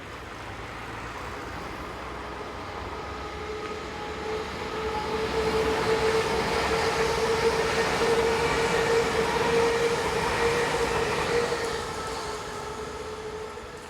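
Two Belgian AM08 electric multiple units, 076 and 098, pass northbound at Duffel on a Nivelles to Antwerpen service, the rolling rumble growing louder then fading, with a faint steady motor whine.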